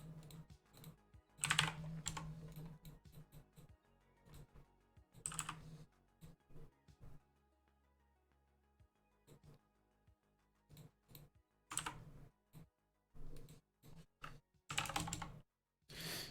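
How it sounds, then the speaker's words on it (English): A loud computer keyboard clatters in bursts of rapid keystrokes, close and crisp, broken by short quiet pauses between typing runs. "I'm liking this keyboard though, even though it's loud as fuck."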